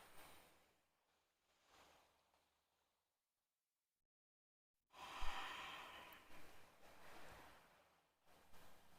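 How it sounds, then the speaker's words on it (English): Deep breathing during a yoga vinyasa flow: a soft, drawn-out breath, then a near, full, broad exhale that rises and falls over a few seconds, after a brief quiet gap. "Big inhale. Big exhale."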